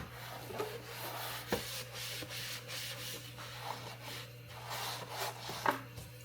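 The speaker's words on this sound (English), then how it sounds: "And you're just going to wipe off the bed." A cleaning wipe damp with solution rubbed across a 3D printer bed, heard as continuous close, scratchy rubbing strokes over a low steady hum, with occasional small knocks.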